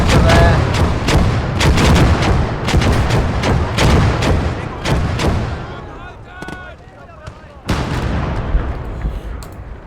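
Dense artillery fire in a war video game, including an 88 mm gun, comes as rapid overlapping booms and blasts. They thin out briefly, then a heavy shot lands and the barrage resumes, with a voice talking over it.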